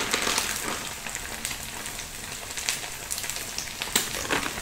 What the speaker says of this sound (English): Okay, so I've just put in the garlic in the middle.